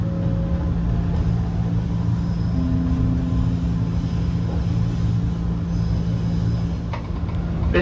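Constant low rumble and rattle of a JR 185 series train heard from inside a carriage, with steady wheel and motor drone and occasional faint squeaks, approaching a station.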